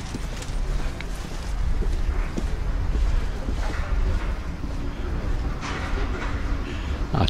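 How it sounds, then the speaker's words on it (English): A Blackpool tram rolls past on its tracks, a steady rumbling roar with clacking wheel noise rising and falling over several seconds, heard from nearby outdoors. "A tram passing by"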